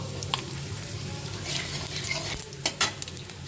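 Cumin seeds with garam masala, dried red chilli and bay leaves sizzling in hot oil in a home kitchen pan, a steady close crackle with a few sharper stirring scrapes near the end.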